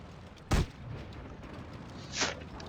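Two tank cannon shots ring out in World of Tanks Blitz: a sharp, loud boom early on, then a second, softer and more distant blast about two seconds later over low background noise.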